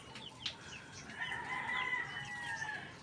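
Loose Rhode Island Red chickens calling close by, with a drawn-out, crow-like cry and short clucks over a steady outdoor hiss, no talking.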